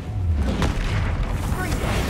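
Bombarda spell explosion in Hogwarts Legacy: a deep, booming blast that rolls through dense, continuous game combat noise for about two seconds.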